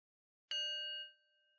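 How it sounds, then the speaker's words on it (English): A single meditation bell struck once to open a bedtime meditation, its clear ringing tone sustaining and slowly fading on its own in a quiet room. "We'll begin with a bell."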